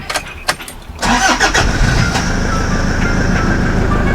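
A few clicks, then a van engine cranks and catches, settling into a loud, steady idle with a low rumble.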